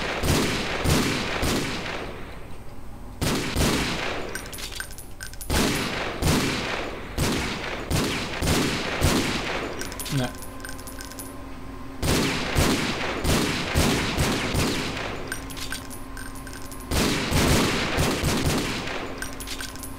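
Rapid bursts of automatic gunfire in the shooter Call of Doom, repeated volleys of sharp, loud shots in clusters separated by brief pauses, with a steady game ambience beneath.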